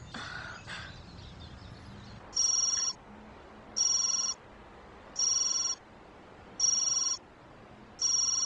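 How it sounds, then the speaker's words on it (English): An electronic telephone rings in the video game .hack//Infection: five evenly spaced, bright ring bursts with short pauses between them over a faint quiet background, with no talking. "Phone call"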